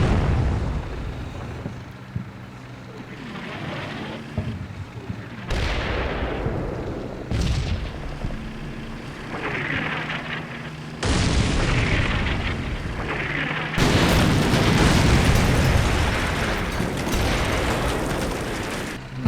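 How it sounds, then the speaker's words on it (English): Mortar shells and artillery landing in the war game Combat Mission Black Sea, a series of heavy booms and rumbling blasts that come every few seconds, loud and close, with each impact followed by a long rolling tail. "Those are the mortar shells coming in."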